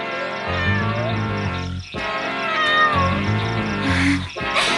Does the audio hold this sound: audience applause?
no